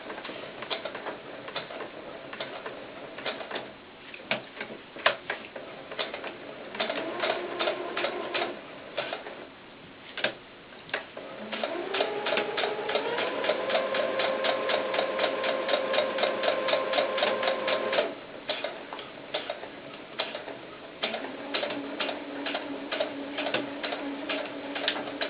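A sewing machine stitches the seam of a small doll baseball cap in quick ticking bursts, its motor hum swelling during a longer run of stitches before it pauses and starts again.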